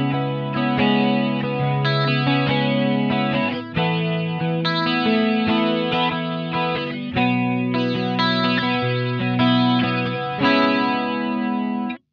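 An electric guitar plays sustained chords through a BOSS Dimension C Waza Craft pedal with its first two modulation modes combined, giving a lush, swirling, flanger-like shimmer. The chords change every couple of seconds, loud and close, with no voice.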